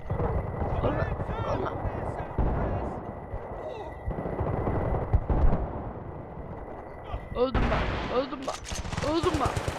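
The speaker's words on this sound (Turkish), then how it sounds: "Kim sıkıyor lan?" Gunfire rattles through a Battlefield Bad Company 2 match, dense bursts of shots and explosions over a continuous battle din, with a player's voice talking over it and louder firing toward the end.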